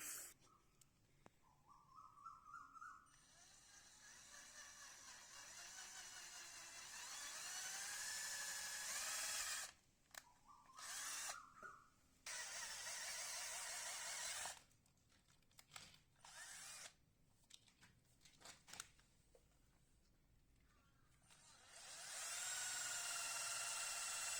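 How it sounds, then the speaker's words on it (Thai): A power drill bores holes into an air conditioner compressor, whining in several bursts of varying length separated by short pauses and quiet gaps, fairly close and alone without talk. "เจาะตรงนะเจาะตรงนะครับ อย่าให้รูเบี้ยนะครับ"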